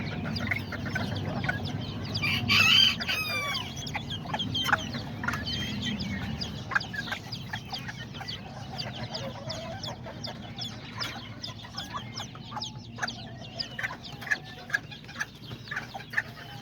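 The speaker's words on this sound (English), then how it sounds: "there's the mom chicken" A mother hen and her chicks cluck and peep in a farmyard, with close, frequent high chick cheeps over softer clucking and some scattered background bird calls.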